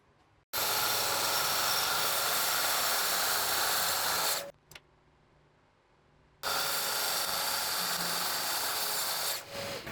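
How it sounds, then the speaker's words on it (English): A track saw rips through a lathe-turned wooden cylinder in two long, loud, steady cutting passes, each several seconds of whining blade and rasping wood, separated by a short quiet pause with a brief clatter. "this one being twice as tall, it wouldn't fit, hence why I made this little setup to do it with the track saw."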